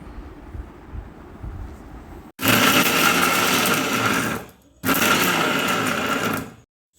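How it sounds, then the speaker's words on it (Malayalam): A mixer grinder blends tomato, coriander, mint, ginger, garlic, green chilli and whole pepper for mutton kurma, giving two loud, steady whirring bursts with a brief pause between them after a quiet kitchen lull. "ഇതെല്ലാം കൂടി നന്നായി മിക്സിയിലിട്ടൊന്ന് അരച്ചെടുത്ത്"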